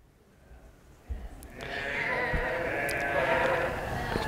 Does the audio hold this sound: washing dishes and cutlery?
no